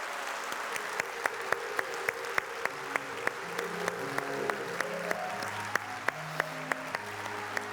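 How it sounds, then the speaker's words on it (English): A live audience at a book event applauds Paul Merton with sustained, dense clapping throughout, while music plays underneath. "So please, a massive round of applause for Paul Merton."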